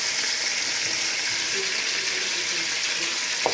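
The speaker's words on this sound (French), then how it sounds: "Moi, ça peut dorer ici la viande directement." Beef browning in a pot, a loud continuous bright sizzle that holds steady throughout, with a faint tap near the end.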